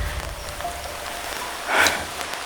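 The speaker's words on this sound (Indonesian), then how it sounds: "Ini pasti hujan sihir ini teman-teman" Steady rain falls outdoors in a continuous hiss with a brief louder splash of drops near the end, no voices.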